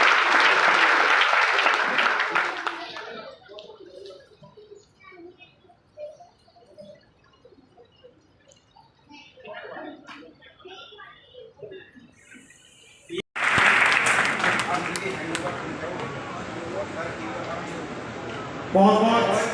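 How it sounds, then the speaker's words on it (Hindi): Loud audience applause welcoming a speaker at a Hindi-language program in Mainpuri, bursting out at the start, dropping to scattered claps and murmurs, then surging again full and sustained after a brief cut. "इनके लिए जोरदार तालियों से स्वागत करें।"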